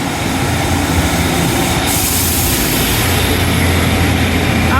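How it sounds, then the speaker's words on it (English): Train pulling away from a station toward Paynton, a broad steady rumble of engine and wheels on rails, loud and continuous with no voices. "And there goes my train, off to Paynton."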